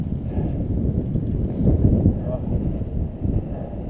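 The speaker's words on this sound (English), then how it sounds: "Windy on that rock face, huh?" Wind gusts across an exposed rock face on a mountain bike trail, a steady low roaring rumble with microphone buffeting that swells midway and persists throughout.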